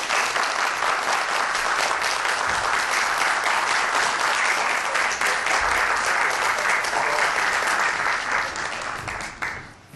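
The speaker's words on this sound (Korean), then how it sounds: "박수 부탁드립니다." Sustained, dense applause from a lecture hall audience welcoming a speaker to a talk on secondary batteries, loud and steady for most of the stretch before tapering off at the end.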